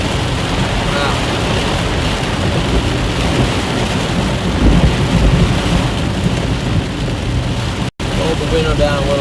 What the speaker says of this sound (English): The window down a little bit so you can hear the thunder off of that track.